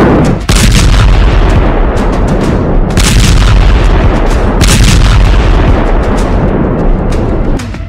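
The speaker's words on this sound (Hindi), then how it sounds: "इसी बम गोलों से बेरूत में नॉनस्टॉप धमाके हो रहे हैं।" Loud, continuous booming and heavy blasts come from bombs and shells striking Beirut, with sharp bursts standing out from a dense roaring rumble.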